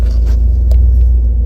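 A 2022 Ford F-250 XL Crew Cab 2WD pickup engine runs at a steady idle, a loud, close, continuous low rumble with no talk over it.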